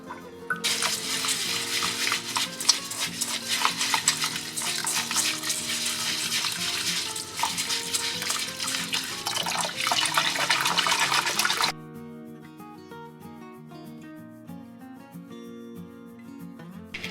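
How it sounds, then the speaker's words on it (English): Basmati rice washed in water for Azerbaijani lamb plov, a close, continuous rush and swish of running water and stirred grains that stops abruptly near the end, with background music and no speech. "there are several steps we're gonna do to wash this now and prepare the rice"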